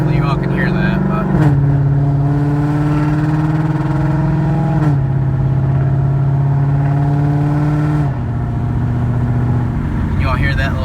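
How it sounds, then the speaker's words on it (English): A loud 2017 Ford Mustang 5.0 V8 with an aftermarket JLT intake revs and climbs through gears, with the pitch rising and dropping at each shift, close and continuous throughout. "the car is obviously stupidly loud"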